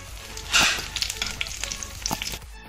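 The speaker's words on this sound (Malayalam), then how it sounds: "കടുകിട്ട് കൊടുക്കാം കുരുമുളക് ഇട്ട് കൊടുക്കാം ചെറിയുള്ളി അരിഞ്ഞിട്ട് കൊടുക്കാം അതുകൊണ്ട് കറിവേപ്പില ഇട്ട് കൊടുക്കാം" Mustard seeds, pepper, shallots and curry leaves hit hot oil for a beetroot pachadi, a sudden loud sizzle flaring up then settling into steady crackling and popping close by, with no talking.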